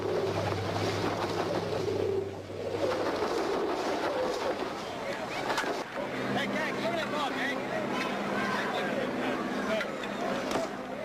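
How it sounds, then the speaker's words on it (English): Pigeons being fed in London's Trafalgar Square make a busy outdoor scene, with dense wing flutter and cooing mixed with traffic and crowd noise under steady narration. "the traditional feeding of the pigeons in Trafalgar Square"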